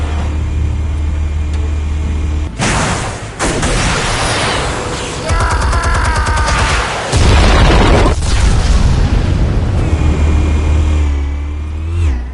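Explosives detonating in the Batman: The Telltale Series video game, a loud sequence of heavy booms and crackling bursts with rumbling debris, several blasts spread over about twelve seconds.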